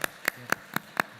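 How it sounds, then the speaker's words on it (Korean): Handclaps at a church service welcoming a visitor, five sharp, evenly spaced claps in quick succession, close and distinct rather than a dense crowd roar. "우리 박수해 주시면 고맙겠습니다"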